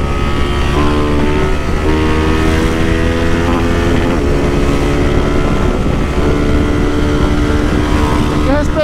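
A Start 230 motorcycle engine running on ethanol on a street, loud and close with a steady strong idle rumble and slight revving throughout.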